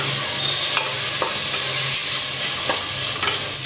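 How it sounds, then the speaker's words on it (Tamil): Green peas fry in hot oil, giving a loud, continuous close sizzle. A spoon scrapes and stirs in short periodic strokes, and there is no talking. "பச்சை பட்டாணியை போட்டு ஒரு ரெண்டு நிமிஷம் எண்ணெயிலே நல்லா ஃப்ரை"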